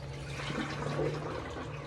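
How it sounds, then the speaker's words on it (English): Illusion mesh fabric is lifted out of a container of dye water in a kitchen, giving quiet close sloshing and dripping sounds over a low background hum, with no talk. "this was me removing it from the water."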